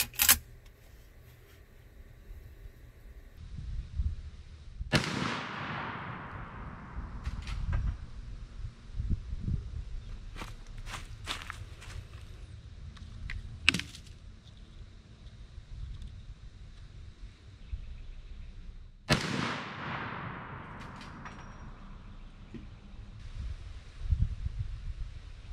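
Two loud, sharp shots from a .44 Magnum brush gun ring out outdoors several seconds apart, each followed by a long echoing decay, with wind and faint rustling in between.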